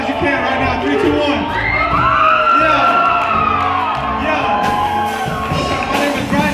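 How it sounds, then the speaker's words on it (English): A crowd at a live music event screams and cheers loudly and continuously, with shouts and whoops layered into a dense, sustained roar close to the microphone. "I want y'all to scream as loud as you can right now."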